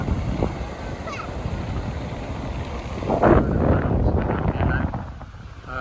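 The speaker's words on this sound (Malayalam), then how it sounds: "തിര അകത്തേക്ക് നല്ല പാഞ്ഞു പാഞ്ഞു വരുന്നുണ്ട് തിര കയറി കയറി വരുവാണേ" Sea waves rush in at Crosby Beach, a broad roar of surf mixed with heavy wind buffeting the microphone, swelling louder midway and then easing.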